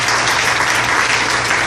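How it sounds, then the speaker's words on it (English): Loud, dense applause from a town hall audience on road safety, thanking the police and the mayor's office, a brief unbroken wash of clapping with no gaps. "Let's give them a strong round of applause for that"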